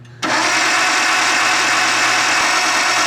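An R33 Skyline with a swapped engine fires up after a short crank, then runs loud, close and steady at a rough idle.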